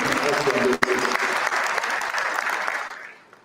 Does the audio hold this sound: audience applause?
yes